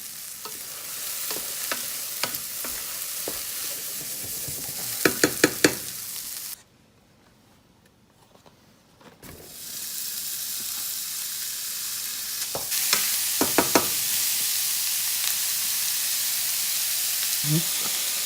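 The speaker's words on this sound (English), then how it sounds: "we're going to start browning our hamburger in the same pan." Ground hamburger browning in a frying pan for American goulash, a steady loud sizzle with scraping stirs and utensil clinks, briefly dropping to near silence midway before the frying resumes.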